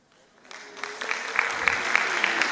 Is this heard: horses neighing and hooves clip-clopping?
no